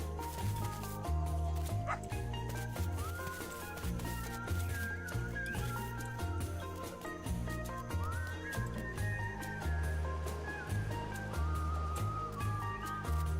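Dogs bark and yip repeatedly in the Australian-themed video game Dinkum, small sharp barks scattered over steady looping background music.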